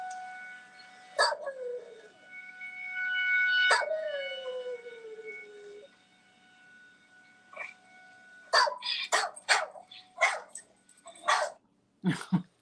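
An old dog howls in long, wavering tones twice, set off by emergency sirens, then gives a series of short yelps and barks, fairly close and loud.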